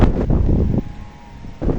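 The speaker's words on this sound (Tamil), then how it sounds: "காற்று தான் சரியாக அடிக்குது பலமான காற்று" Strong gusty wind blowing outdoors ahead of an approaching storm, roaring loud and close into the microphone, easing briefly in the middle before buffeting hard again.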